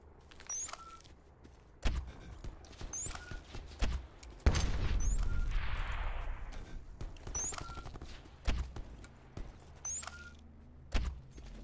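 Gunfire in the Black Ops 4 Blackout battle royale, with several sharp isolated shots spread across the stretch and a denser, noisier burst near the middle, over a faint game background.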